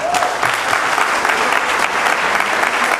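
Audience applause, a dense, loud burst of many hands clapping continuously and evenly, with a brief voice under the clapping at the start.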